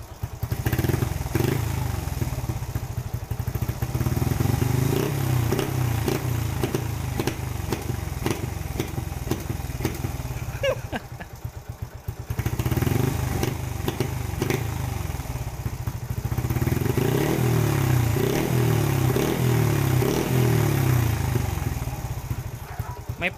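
Suzuki GTR150 motorcycle with a GP mid pipe exhaust, its engine running close and loud with a throbbing, uneven idle and a brief dip midway before it picks up again.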